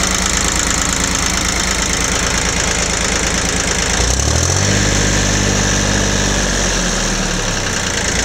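Ford 1710 tractor engine cranking, then catching and running, a loud steady mechanical drone throughout that shifts to a deeper, even idle with a knocking pulse partway through.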